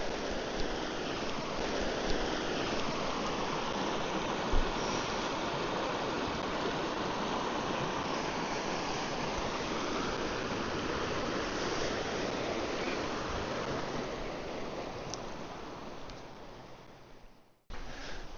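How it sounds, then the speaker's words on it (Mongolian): A fast river with a strong current rushes steadily and close by, a constant roaring wash of water with no speech, fading near the end. "Нэлээд хүчтэй урсгалтай."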